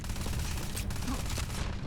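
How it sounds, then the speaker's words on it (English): Gunfire crackles through a fight in the video game Starfield, a dense, continuous barrage of shots layered over rumbling game noise, loud and busy with no clear pauses. "I'm just going where people are shooting them."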